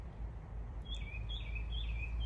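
A mockingbird sings outdoors, its repeated high chirping phrases fairly faint over a low steady background rumble, with no talking.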